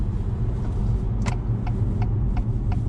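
Steady low road rumble and tyre noise from a 2021 Acura TLX driving in comfort mode, heard from inside the cabin with a few light clicks and taps over the continuous hum.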